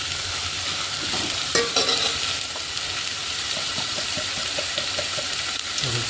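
Tomatoes, chillies and onions for a Gujarati eggplant olo cook in a pan with a steady soft sizzle, broken by a few sharp scrapes and clinks of stirring and a faint splash of water. No one speaks.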